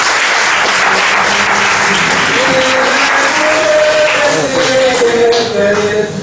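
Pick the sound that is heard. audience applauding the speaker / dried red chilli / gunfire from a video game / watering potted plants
audience applauding the speaker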